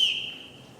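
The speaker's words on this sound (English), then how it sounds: "Everyone in this house answers to a whistle." A single short, shrill whistle blast blown to call a household together on a stage, sharp at first and fading over under a second.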